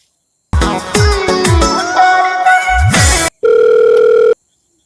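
A mobile phone call rings out at close range: a sequence of bright, pulsing electronic ringtone notes followed by a steady, loud tone, in a Bhojpuri comedy scene.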